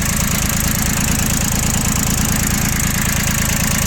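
A Yanmar YM1602D Japanese tractor engine idles steadily and loudly with a low, even chugging rhythm throughout, close by and with no other sounds.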